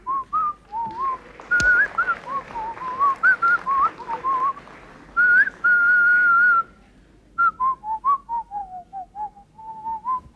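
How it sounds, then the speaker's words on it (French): A man whistles a lilting tune as he walks into an administrative office, a loud, close melody of bending notes and short phrases with one long sustained tone and brief pauses. "On n'entre pas dans un bureau administratif en sifflotant."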